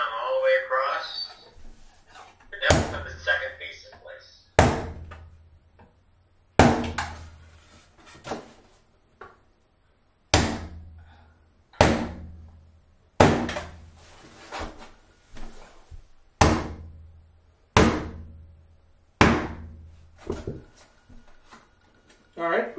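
Nails are hammered into carpet tack strips at a floor transition, a series of about a dozen sharp, separate knocks spaced a second or two apart, with someone talking between blows.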